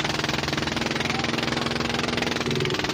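A fishing boat engine runs steadily close by, a loud, dense, rhythmic mechanical throb with a constant vibrating hum and no pauses, heard at sea near the BRP Sierra Madre.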